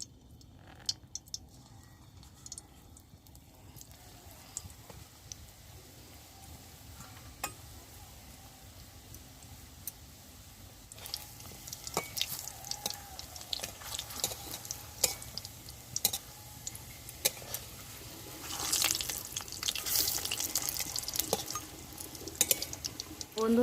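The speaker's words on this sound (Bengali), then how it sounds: "কড়ায় আমি সাদা তেল দিলাম পিঠেটাকে ভেজে নেব বলে" Rosogolla pitha sizzles in white oil in a wok, with quiet stirring and clinks at first, then a stronger, crackling fry, while a voice talks at times.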